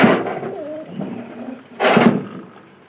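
Pigeons kept indoors coo softly at close range, a few low, throaty calls with a brief rustle in between, with no voices.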